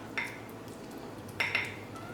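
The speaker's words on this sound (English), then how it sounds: "I'm just gonna mix this up really well." A utensil mixing garlic butter and parmesan in a bowl gives a few faint, sparse clinks against the bowl over a quiet room background, with no talking.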